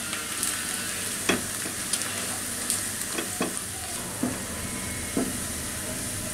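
Onions fry in oil with bay leaves, cinnamon, cardamom and cloves for a prawn curry, giving a steady close sizzle broken by several sharp pops and utensil clicks.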